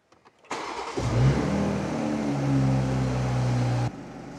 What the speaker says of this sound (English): so ignition, let's start the engine.